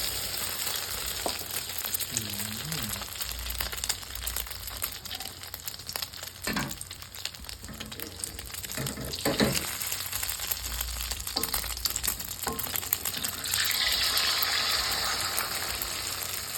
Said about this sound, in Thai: ร้อนแล้วนะครับ เจียวไข่นะค รับ